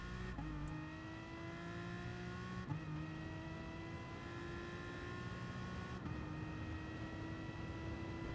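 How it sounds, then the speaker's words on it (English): Gr. 3 race car in Gran Turismo Sport braking and accelerating on a downhill turn, a loud steady engine drone with pitch dropping under braking, then shifting and rising again, with no talk. "Ease off of the brakes to let the car rotate and quickly get on the throttle."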